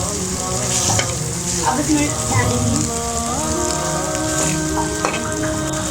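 Chicken filling for Chinese samosa frying in a pan, a loud, steady, close sizzle with stirring scrapes and faint tonal background sounds throughout.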